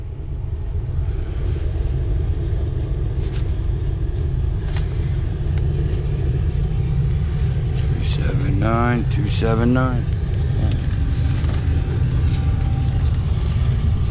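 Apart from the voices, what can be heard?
coal train rumbling into the railyard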